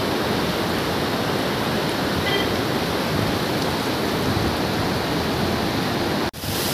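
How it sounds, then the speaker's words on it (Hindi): Waterfall tumbling down beside a mountain road on the way to Munsiyari, a steady loud broadband rush of falling water that fills the whole clip without pause, cut by a brief break near the end. "बिल्कुल झरना नीचे गिर रहा है रोड के आगे से"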